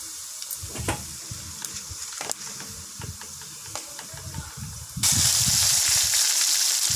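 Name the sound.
bay leaf, fennel, cinnamon, cloves sautéing in hot oil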